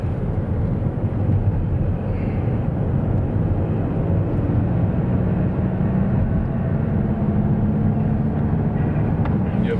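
A Qatar Airways jet taxiing at Munich airport produces a steady, broad engine rumble heard from inside a nearby vehicle, constant and fairly loud throughout.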